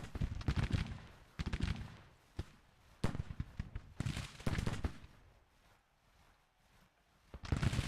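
Rifle fire in a Civil War battle video game, with sharp volleys and single cracks in irregular bursts, some close and loud, others dropping away into quieter stretches, and no voices over it.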